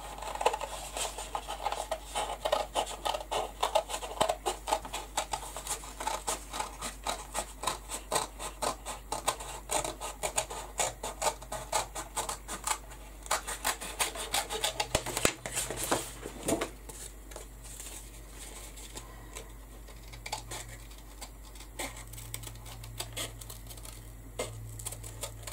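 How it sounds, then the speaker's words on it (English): Scissors cut out a papercraft heart piece for a Canvas Corp Amour project, giving a long run of close, soft rasping snips and scratchy paper rubs at a steady rhythm, with no talking. "I'm just going to cut this out."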